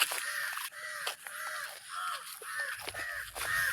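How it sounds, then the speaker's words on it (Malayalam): Repeated crow caws in a wooded area, several harsh calls in an irregular series at moderate distance, with no talk. "കാക്കിയൊക്കെ കരയുന്നുണ്ട്"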